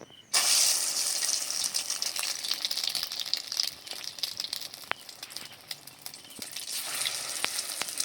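Egg-coated flour and potato snacks drop into hot oil with a sudden loud burst of frying, then a steady close crackling sizzle with scattered pops that eases slightly toward the end.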